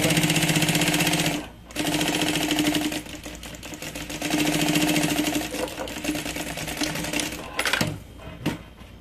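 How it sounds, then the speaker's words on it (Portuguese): A sewing machine runs stitches along the edge of mesh fabric in close, loud bursts, pausing briefly between runs and ending with a few short stops and clicks. "E é só passar uma costurinha bem na beiradinha, só pra segurar essa tela."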